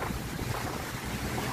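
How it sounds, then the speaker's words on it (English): Strong wind buffets the microphone on a walk through Waikiki in Hawaii, a steady loud roar of gusting noise with surf-like wash underneath and no talking. "It's never this windy, though."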